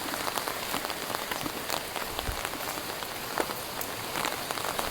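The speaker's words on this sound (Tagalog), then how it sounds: "Gani hinay ng ulan." Light rain patters steadily and close by on a surface during a typhoon, a dense even hiss of drops with occasional louder individual hits and no voices.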